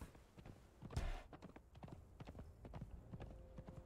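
Hooves of a ridden horse in the video game Conan Exiles clip-clop in a steady, quick rhythm, soft and close, with a louder thump near the start and no speech.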